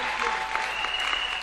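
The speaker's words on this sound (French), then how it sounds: "Can we clap for Jesus?" A church congregation claps steadily throughout a worship service, with dense, even applause carrying a faint sustained tone, likely music, underneath.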